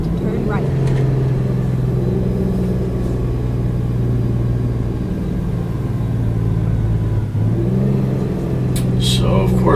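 A Western Star truck engine in American Truck Simulator drones steadily at a low pitch while driving a loaded trailer, with a dip and recovery near the end and a voice talking over the continuous rumble.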